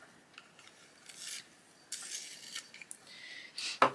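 A colouring pencil is sharpened in short, faint scraping strokes. The rasping comes in bursts, quiet and close, with no talking.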